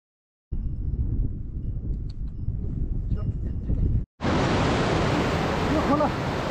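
A mountain river on the Annapurna Circuit rushes loudly and steadily, first as a deep low roar, then after a brief cut as a brighter, hissing torrent close by, with no talk over it.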